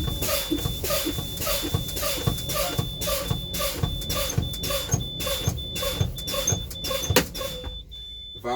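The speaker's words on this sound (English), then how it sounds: "I'm now going to pump down to 40 psi and or below to check that my spring brakes is working and making sure that valve pops out." A Class B truck's air brakes are pumped down in a rapid, even series of hissing pulses, each with a thump, until the spring brake valve pops and the pumping stops.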